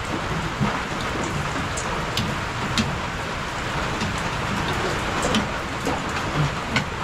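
Steady rain pours down, filling the scene with a constant close hiss of drops hitting surfaces, scattered louder splats breaking through, with no voices heard.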